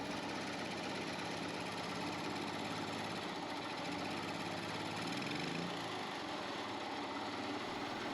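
A seized generator engine runs steadily and loudly throughout, its dense mechanical drone dipping and rising briefly near the middle as it tries to overspeed after coming off choke.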